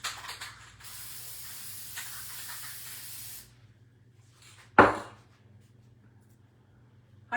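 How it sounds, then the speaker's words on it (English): A steady hiss of an aerosol spray can runs for a few seconds, followed by a short sharp burst and quiet. "I'm going to spray it real quick."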